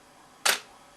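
A Nikon D300 DSLR in live view gives a single crisp, close mechanical mirror clack in a quiet room, with no other sound around it.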